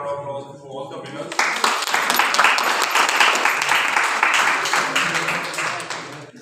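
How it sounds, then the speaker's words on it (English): Sustained applause from an audience at a college debate competition prize ceremony, dense clapping rising after a brief lull and holding steady throughout, with a few voices mixed in. "Big round of applause for all the winners."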